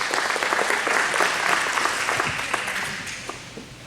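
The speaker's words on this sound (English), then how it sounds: "Round of applause." An audience at a community meeting breaks into loud, dense applause that fills the whole stretch without pause and stays steady throughout.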